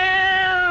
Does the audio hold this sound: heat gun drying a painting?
no